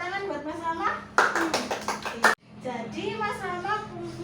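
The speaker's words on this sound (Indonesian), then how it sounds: "Tepuk tangan buat Mas Rama." Third-grade pupils in a classroom clap briefly for a classmate, a short burst of about a second of quick claps set between stretches of a teacher talking.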